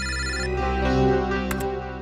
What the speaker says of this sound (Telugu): ఎవరి గురించి మాట్లాడానో ఆయనే ఫోన్ చేశారు.